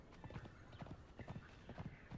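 Horse hooves clip-clop in the Conan Exiles video game, a quiet, steady run of paired hoofbeats repeating evenly throughout.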